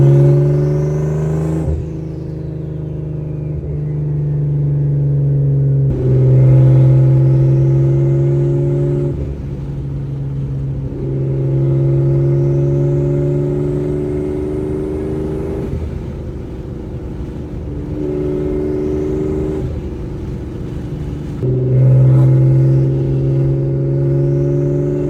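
An Audi B5 S4 converted to single turbo drives through repeated gear pulls, engine tone rising in pitch with each acceleration then dropping at shifts, with turbo whistle sweeping up high; loud, close and continuous without voices.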